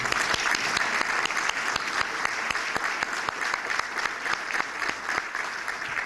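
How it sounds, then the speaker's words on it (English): Applause from an audience honoring officials and veterans at a chamber of commerce support-the-troops event, a steady dense clapping that fills the whole stretch at moderate level. "If we could just have a round of applause for all those people."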